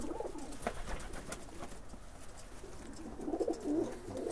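Breeding Polish Widin pigeons coo softly in a loft, low burbling calls rising near the end over faint background noise.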